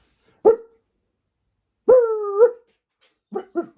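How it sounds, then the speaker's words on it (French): Ruby, a Scottish Terrier, gives a sharp single bark, then a longer drawn-out whining bark, followed by a quick burst of three short yaps, all close and clear against silence. "Et on a le Scottish Terrier. Ruby, le chien de madame."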